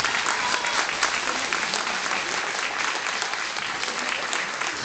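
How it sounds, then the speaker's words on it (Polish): Audience applause fills the room, a dense, even wash of many hands clapping at moderate volume, sustained steadily without breaks or talking. "Brawa, brawa ogromne dla wszystkich."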